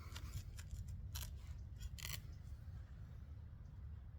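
A Lionsteel T5 knife saw-cuts through rope, giving several short, rasping strokes close up over a steady low background rumble.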